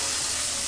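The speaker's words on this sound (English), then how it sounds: "She's still frying the food." Food fries and sizzles in a pan inside a video game, giving a brief, steady, loud hiss with no voices.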